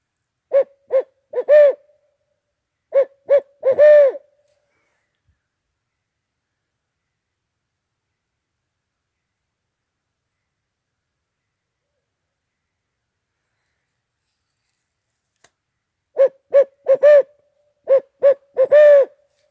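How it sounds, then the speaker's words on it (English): Two bursts of rhythmic owl hoots, several quick calls each, then a long silence before two more similar bursts, clear and fairly close. "If that's an owl, it'll come in closer."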